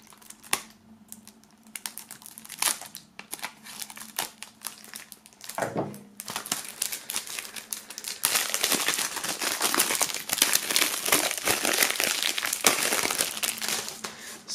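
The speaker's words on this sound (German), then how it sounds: "die beiden Tonträger werden wir auch mal aus der Folie befreien" Two shrink-wrapped music records being freed from their plastic foil, with dense crinkling and crackling close up, scattered picks and tears at first, then a sustained loud rustle of tearing film.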